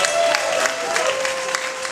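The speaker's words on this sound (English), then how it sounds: "So please give a round of applause for Victoria Pester." Audience applause for a speaker at a talk about travel writing, a steady patter of many hands clapping throughout, with a faint tonal hum running underneath.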